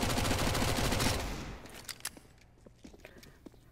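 Rapid gunfire from a MAC-10 in the CS:GO video game rattles in a dense, loud burst for about a second, then cuts off, leaving scattered quieter footsteps and small clicks.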